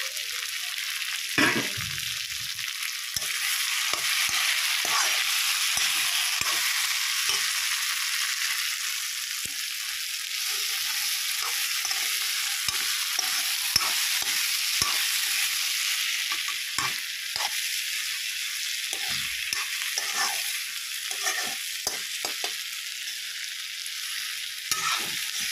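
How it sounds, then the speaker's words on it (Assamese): Soybean chunks with tomatoes fry in a pan, giving a steady, close sizzle. Repeated scraping stirs break through the sizzle throughout, and no one speaks. "তাতে এতিয়া যি ভাজি লৈছিলোঁ চয়াবিনখিনি ইয়াতে দি দিলোঁ"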